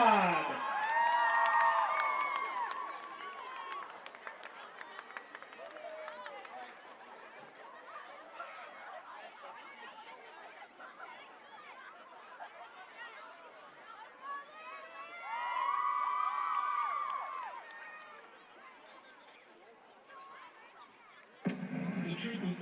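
A crowd at a high school football game cheers and whoops in two swells from the stands, far off and fairly faint, with a public address voice at times and quieter crowd murmur in between.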